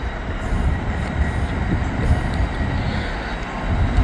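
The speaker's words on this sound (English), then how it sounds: "Amtrak's coming around the curve right now." An Amtrak train passes on elevated tracks with a CSX locomotive in the lead, giving a steady, broad rumble of rolling rail cars that holds close and even throughout.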